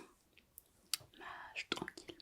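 Soft, moist chewing of a soft, sour-sweet candy, close and quiet, in scattered wet clicks and smacks with short pauses between them.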